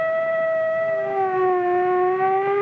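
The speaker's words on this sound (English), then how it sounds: "What does the siren on the fire truck say?" A loud, steady fire truck siren wails on one sustained tone, its pitch sliding slightly as it holds without a break.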